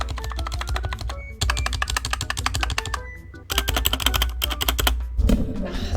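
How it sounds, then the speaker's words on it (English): Fast, continuous typing on a DIERYA DK63 mechanical keyboard with Outemu Black switches, dense clacky keystrokes close up with a couple of brief pauses and a heavier thock near the end. "I think that all the like normal sized keys sound good."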